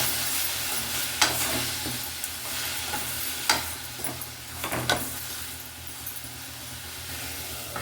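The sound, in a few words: tomatoes frying and being stirred in a pan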